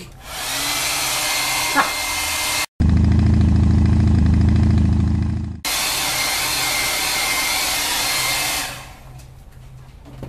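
A handheld dryer blows steadily on a piece of artwork, a loud continuous whoosh that cuts out for a moment, returns with a deeper rumbling tone, then resumes its airy roar and fades near the end.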